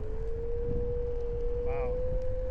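OneWheel GTS XL electric board's motor whining on a ride, a steady, fairly loud high-pitched tone that holds level for the whole moment against rushing wind noise.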